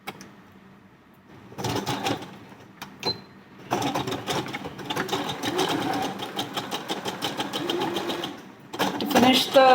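A sewing machine stitches a curved seam on a blouse in quick close bursts of rapid mechanical clatter, stopping and restarting several times, with a voice speaking in the pauses.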